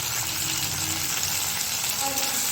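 Chopped tomato and onion fry in a pan with a steady, loud broadband sizzle, joined by faint stirring scrapes throughout.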